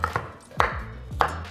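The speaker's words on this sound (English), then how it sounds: "just cut this potato into little chunks like, ooh, it's hard" A kitchen knife chopping a hard raw potato into chunks on a board for a roast dinner, with three sharp, close thuds spaced at a steady rhythm and no talking.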